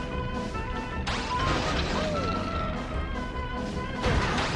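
Vehicle crashing and smashing in the video game Banjo-Kazooie: Nuts & Bolts, with loud impacts at about one second and again near four seconds over steady game audio and engine noise, with faint talk mixed in.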